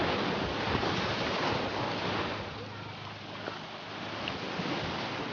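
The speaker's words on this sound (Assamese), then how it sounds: "আজি ঢৌটো বহুত বেছি আছে, অকণ সাৱধানে চখাই ভাল" Broadband roar of high surf washing against Puri beach on the Bay of Bengal, steady and fairly loud, with wind buffeting the microphone throughout.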